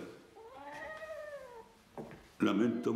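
A cat gives one drawn-out, rising-then-falling meow, close and clear, followed by a brief noise and then a person speaking.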